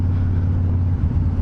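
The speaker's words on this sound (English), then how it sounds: "There's an awful lot of traffic down here for a Christmas Day." Road traffic rumbles past on a busy Christmas Day, a steady low, loud drone of vehicles close by with no talking.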